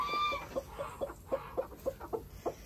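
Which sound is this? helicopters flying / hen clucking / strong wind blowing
hen clucking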